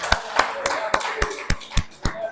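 A church congregation claps along together, each loud, distinct clap coming at a steady pace of about four every second, with no voices over them.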